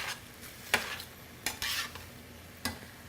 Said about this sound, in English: I'm going to go ahead and add my lemon juice. Give that a stir through.